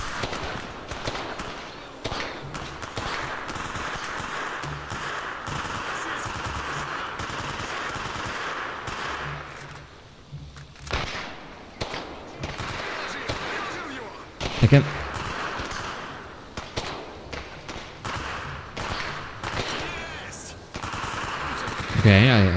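Bursts of automatic gunfire from a tactical shooter video game, dense and near in the first half, easing off around the middle, then returning in scattered loud rattles with occasional single shots.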